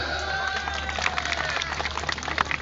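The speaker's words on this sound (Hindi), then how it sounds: "सबू ताली मारले मु भी ताली मारली मारू ताली" An audience at a spoken English program in Bijapur claps together, producing a dense patter of applause that grows choppier and more uneven near the end.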